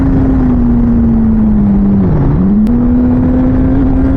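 A motorcycle fitted with a Translogic QSXI quick shifter and Domino XM2 quick-action throttle holds a loud, steady engine drone that briefly dips in pitch around a gear change, then settles back at a constant rev, recorded close up with no talking.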